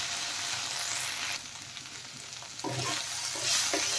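Drumstick and potato pieces fry in a pan with a steady sizzle, joined by a few scraping stirs partway through, close and moderately loud with no talking.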